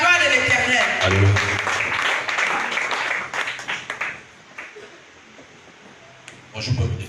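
A church congregation applauding, a loud burst of clapping with voices mixed in that thins out and fades after a few seconds, followed by talking before a short final swell.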